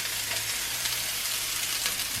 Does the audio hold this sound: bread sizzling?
yes